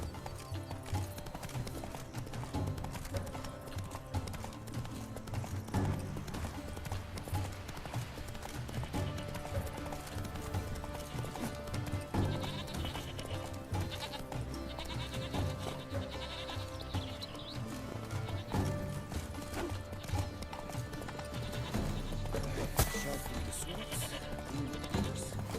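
Horse hooves in the video game The Witcher 3, a steady clip-clop of galloping throughout under continuous game music and ambience.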